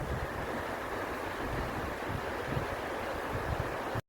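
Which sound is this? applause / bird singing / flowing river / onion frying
flowing river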